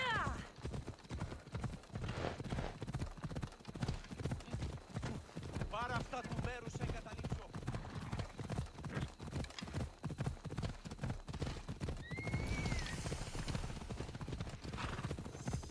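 Horse hooves clip-clop in Assassin's Creed Odyssey, a steady rhythmic run of close hoofbeats with a few neighs and whinnies, heard under ongoing talk.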